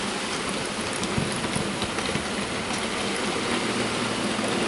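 Steady rain falling outdoors, a dense, even hiss of drops on surfaces that stays constant throughout with no voices.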